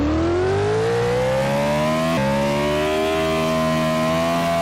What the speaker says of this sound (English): let's accelerate into this rev.